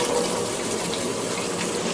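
Soybean oil and chopped onion hitting a hot cooking pot, a steady close broadband sizzle with no pauses.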